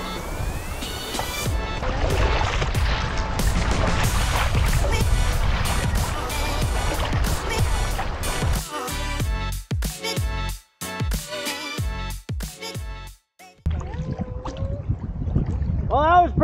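Kayak paddling along the shoreline of Haida Gwaii, with wind and water splashes and strokes close to the microphone, loud and steady for most of the stretch, turning into irregular splashy bursts toward the end, with people talking over it.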